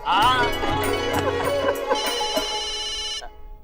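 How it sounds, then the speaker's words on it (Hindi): An electronic phone ringtone plays a bright, repeating melodic pattern, loud and close, then cuts off abruptly. "अरे मेहता साहब का फोन"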